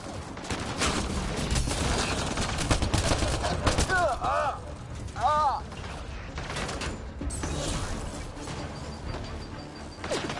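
Sustained gunfire and weapon bursts from the video game Mass Effect: Andromeda fill a dense, loud combat mix, with mechanical clanks and chirping effects cutting through.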